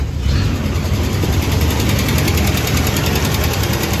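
Engine of a 1970 International Scout running at a loud, close, steady idle with an even throbbing rumble, alone with no voices.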